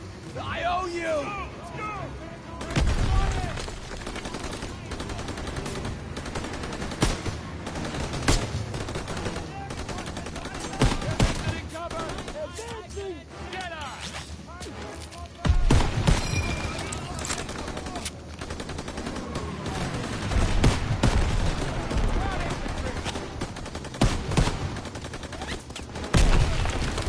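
Machine-gun fire from a half-track in a war video game, heavy bursts rattling repeatedly throughout amid explosions and battle noise, with voices shouting over the gunfire.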